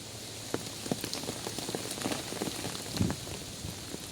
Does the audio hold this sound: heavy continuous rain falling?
yes